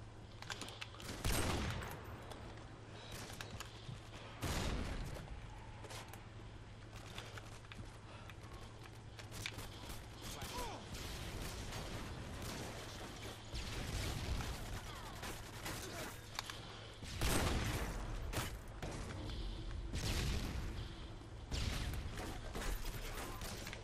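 Gunfire in a first-person shooter video game, a dense run of loud shots and bursts across the clip, with heavier volleys at intervals over a steady low hum and brief speech.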